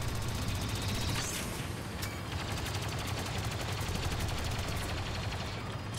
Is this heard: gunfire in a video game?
yes